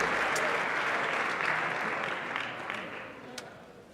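A school honor society night audience applauds its students, a dense, steady round of clapping that slowly fades toward the end.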